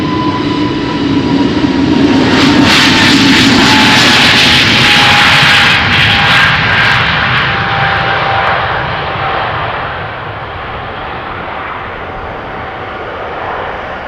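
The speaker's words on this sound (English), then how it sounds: "An A320neo off to Kuwait City most likely," An Airbus A320neo jet takes off from Amsterdam Schiphol, its engines roaring loud and steady near the runway before the sound slowly fades and thins as the aircraft climbs away.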